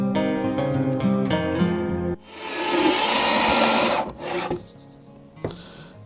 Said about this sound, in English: I'm going to see what I can do with the belt sander first and then move to my orbital